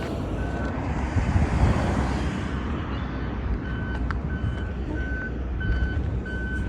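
A bus drives nearby outdoors, a steady broad engine rumble and road noise with wind, while intermittent high reversing beeps sound repeatedly in the background.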